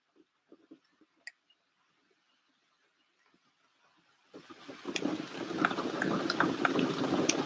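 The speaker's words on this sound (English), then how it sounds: "Here comes the rain." Heavy rain begins pouring down after a few seconds of near silence broken by faint taps, rising suddenly into a dense, steady roar of falling water that stays loud to the end.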